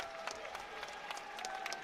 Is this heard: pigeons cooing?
no